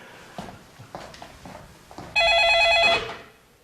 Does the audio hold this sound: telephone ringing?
yes